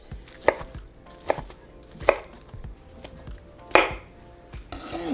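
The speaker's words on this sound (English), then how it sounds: "now we're going to grab our chile relleno and we're going to cut it" A knife chops through a chile relleno on a cutting board in four distinct thuds, spaced about a second apart and close, with faint kitchen clatter in between.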